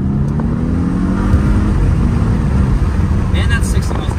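A 2015 Audi S8 pulls hard at full throttle, its engine a muted, steady low drone under road and cabin noise heard from inside, with a rising tone as it accelerates.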